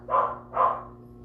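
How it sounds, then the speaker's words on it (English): Two barks from dogs in the background, evenly spaced and of moderate loudness, carry over a steady low hum in a woodcarving workshop where a Dremel is used. "Don't mind the dogs barking in the background there."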